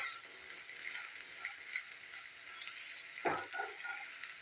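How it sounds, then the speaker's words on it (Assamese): Onions sizzle steadily in a hot pan, with scraping and stirring sounds from a spatula and a sharper clatter partway through. "পিঁয়াজখিনি মই ভালদৰে ভাজি ল'লোঁ।"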